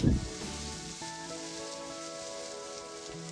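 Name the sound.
pork belly sizzling in a pan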